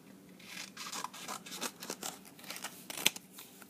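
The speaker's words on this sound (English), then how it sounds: "So first I'm going to cut through the middle line." Scissors snip through paper along a line in a quick series of close, crisp cuts, ending with a sharper final snip, quiet and with no talking.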